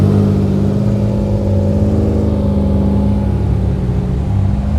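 A Ferrari 348 Spider's engine roars past at a supercar pageant at Oulton Park racing circuit, a loud, close, sustained mechanical growl with steady tonal harmonics, heard alone without talk.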